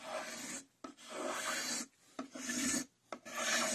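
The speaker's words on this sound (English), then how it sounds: "take the bandsaw marks out with the spoke shave" A spokeshave shaves wood on a Windsor chair part, taking out bandsaw marks with old-style hand tools: four rough rasping strokes in quick succession, close and loud, with short pauses between them.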